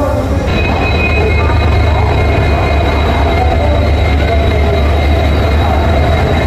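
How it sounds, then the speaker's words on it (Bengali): The 12863 SMVT Superfast Express rolls into a platform loudly with a heavy low rumble, steady wheel noise and a thin high squeal from the rails, continuing without pause. "আমাদের এই ট্রেন যেটার জন্য আমরা এতক্ষণ ধরে ওয়েট করছিলাম এই চলে এসছে"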